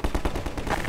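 Shotgun blasts in the video game Half-Life 2, three sharp booming shots in quick succession, loud and close, with game ambience continuing after them.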